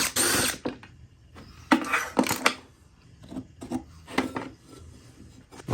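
Screws being backed out of a Harbor Freight angle drill guide with a powered driver, giving short whirring bursts and scraping rattles in irregular spurts, close by with quiet gaps between.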